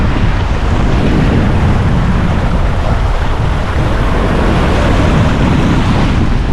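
Ocean waves and strong wind surround a sailboat crossing the Mona Passage in the open Atlantic, a loud, continuous rushing wash with wind buffeting the microphone and no voices.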